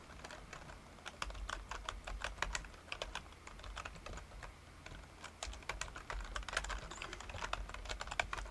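Code being typed on a computer keyboard: a steady run of quick, light key clicks close by, in uneven bursts with short pauses, fairly quiet and with no talk over it.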